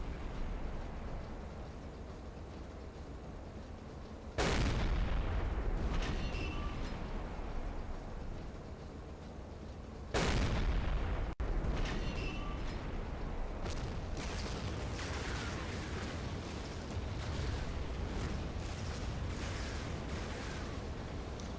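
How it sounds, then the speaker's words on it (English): A ship explodes in Silent Hunter 3: two heavy booming blasts erupt several seconds apart, each followed by a long rumbling, crackling roar that fades slowly; no voices. "Pretty impressive explosion."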